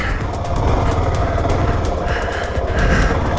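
A small motorcycle engine runs with the rider slipping the clutch while crawling over rough ground, a steady buzzing drone that rises and falls slightly, close and loud throughout.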